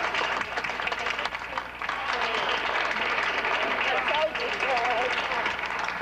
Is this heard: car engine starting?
no